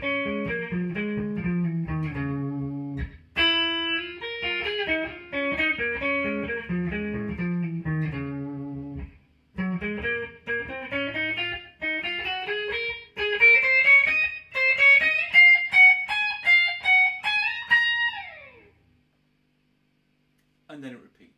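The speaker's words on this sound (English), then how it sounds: "So slowed down, the two bits of the solo sound like this." Slowed-down guitar solo from a song played on its own: two phrases of distorted single notes that climb in pitch, with a brief pause between them and a faint note near the end.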